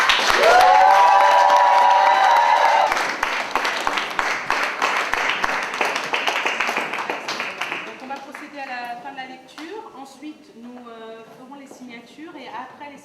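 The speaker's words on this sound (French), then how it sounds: "Félicitations, vous pouvez les applaudir." Applause and cheering from guests at a civil wedding ceremony, a loud burst of clapping that fades over several seconds as voices and chatter take over.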